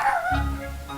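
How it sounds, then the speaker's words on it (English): Short bark-like yips from a dog in the game Monster Loves You, a couple of quick calls up front followed by a low rumbling tone, close and fairly loud with no talking. "Oh, my dog is very barky today."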